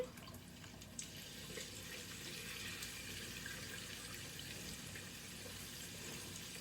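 Water runs steadily from a kitchen tap into a sink while something is rinsed during cooking, a continuous close hiss with a small splash near the start and no talking.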